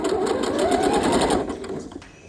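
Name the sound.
sewing machine back stitching up side seam of denim dress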